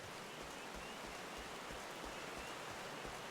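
Rain pours through the Shroud in Final Fantasy XIV, a thick, continuous wash of droplets that holds at one even level and fills the whole clip, with no voices.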